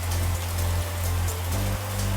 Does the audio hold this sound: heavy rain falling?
yes